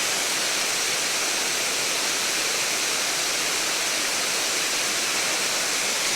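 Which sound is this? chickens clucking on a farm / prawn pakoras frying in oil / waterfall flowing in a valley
waterfall flowing in a valley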